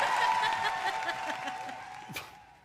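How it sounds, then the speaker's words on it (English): A studio audience applauds during a comedy talk show, a broad wash of clapping that slowly fades, with a steady tone and some chuckles underneath. "Faster with the applause, guys, please."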